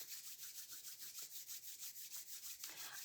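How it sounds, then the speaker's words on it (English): Palms rub briskly together during a guided relaxation, a steady run of swishing strokes for about three seconds, close and soft with no talking. "let's gently open our eyes and rub our hands together"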